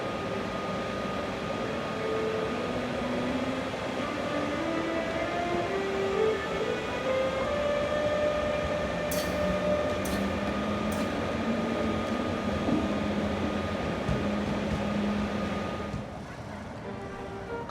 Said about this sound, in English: the trains actually play a scale that ends in the frequency the trains themselves make when they pull off